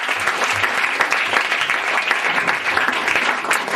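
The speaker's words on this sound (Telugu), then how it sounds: "చప్పట్లు కొట్టి." An audience in a church claps together, a dense, steady burst of applause lasting throughout at a fairly close, loud level.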